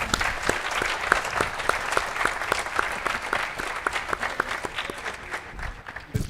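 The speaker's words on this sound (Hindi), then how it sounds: "मुजीब साहब के लिए एक भी ताली नहीं बजा रहे आप लोग" Audience applause at a corporate initiative event speech, steady moderately loud clapping from a room of people lasting several seconds before tapering at the end.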